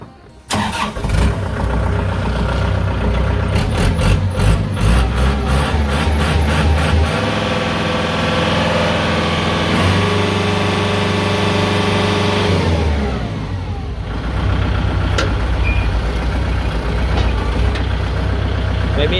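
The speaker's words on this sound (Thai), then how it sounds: "เดี๋ยวเราลองมาสตาร์ทเครื่องยนต์ดู" A Kubota L5018 tractor's diesel engine cranks and catches, revs up, then settles into a steady idle before rising again.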